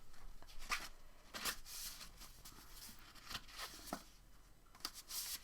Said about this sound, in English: I'm going to shuffle my prompts really awkwardly for you